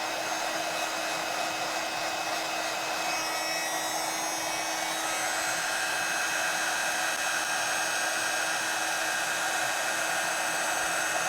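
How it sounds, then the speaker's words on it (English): A heat tool blowing hot air to melt embossing powder on a mixed media art journal page, a steady close whirring hiss running continuously without pause. "I'm going to take my heat tool and melt this."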